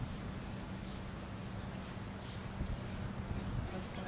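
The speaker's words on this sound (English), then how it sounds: "I'm just gonna go in this detail in here, on the edge and the top, rub it in really well." Dark wax being rubbed by hand into the edges and top detail of chalk-painted furniture, a steady soft scrubbing texture that runs continuously, close and fairly quiet.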